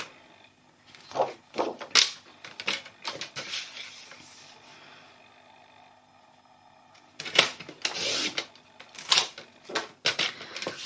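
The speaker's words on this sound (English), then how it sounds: "I'm going to cut the size for the lid as well, since I have my trimmer out." A paper trimmer slices through cardstock in a series of quick scraping, clicking strokes, arriving in two bursts with a quiet pause between them.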